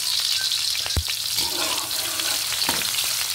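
Garlic and onion dropped into hot cooking oil for a frog adobo, frying with a loud, dense, continuous sizzle close up, one dull thump early on and faint stirring rustles, with no voices.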